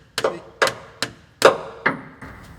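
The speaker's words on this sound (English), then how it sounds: "we're going to have to use a screwdriver to get this loose" Sharp metallic knocks from a screwdriver being driven in to pry a stuck transmission pan loose on a car, six distinct hits spaced roughly half a second apart, close and loud with no talking.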